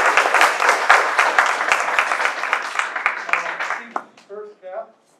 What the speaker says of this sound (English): Would be okay to applaud you.